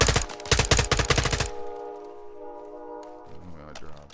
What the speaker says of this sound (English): Figure out where that gunfire is coming from.